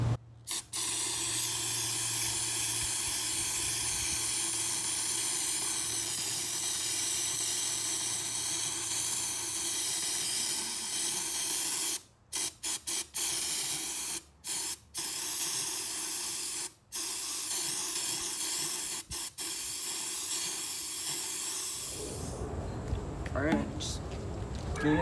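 A paint spray gun on an F-150 Raptor paint job blasts acetone through itself for cleaning, giving a long steady hiss with a few brief breaks, then stops near the end.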